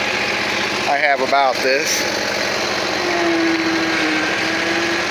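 A Bad Boy MZ Magnum zero-turn mower engine idles with a steady, buzzing drone, close by, as a person talks briefly over it near the start.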